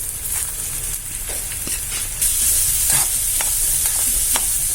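Onion sizzles and crackles in hot oil, with a constant hiss and short scraping strokes as it is stirred around the pan; the frying grows slightly louder halfway through, and no one speaks.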